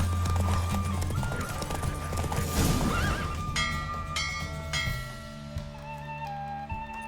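Horse hooves clip-clop rapidly with a loud whinny in The Witcher 3: Wild Hunt, followed by chiming musical tones as the galloping fades.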